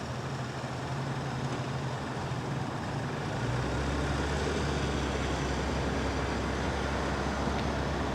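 A 2024 Genesis GV70 3.5T with no one at the wheel creeps backward under remote automatic parking, giving off a low, steady drone that deepens and grows a little louder partway through, with no voices.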